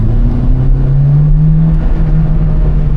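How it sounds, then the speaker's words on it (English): A Honda Civic Type R EP3 fitted with a Mugen twin loop exhaust gives off a loud, close, steady engine drone that rises slightly in pitch before settling. "Mugen twin loop exhaust"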